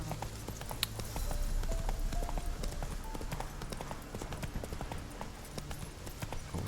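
Hooves of Roach, Geralt's horse in The Witcher 3, clip-clopping in a steady trot throughout, close and fairly loud over a low ambient game bed, with brief speech.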